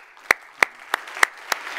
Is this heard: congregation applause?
yes